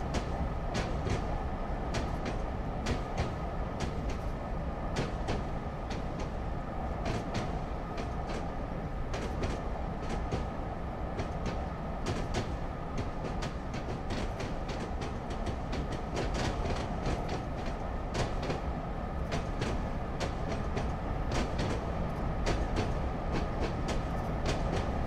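A Western Pacific EMD FP7 locomotive hauls its train through Feather River Canyon in Train Simulator, with a steady rumble and regular clickety-clack of wheels over rail joints, no voices.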